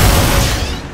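A single heavy weapon blast from the video game Xenon, a loud, close boom with a rumbling body that slowly fades across a second.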